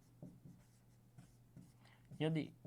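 Handwriting during a class 10 maths lesson, soft scratchy pen or chalk strokes coming in short bursts, followed by a brief burst of a teacher's speech near the end.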